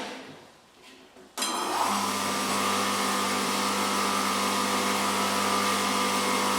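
An electric tile cutting saw starts up abruptly from near silence and runs at a steady, loud whine with a constant motor hum, holding the same pitch to the end.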